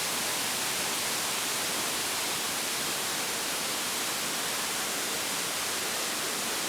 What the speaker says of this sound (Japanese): 布引の滝を動画で撮っております。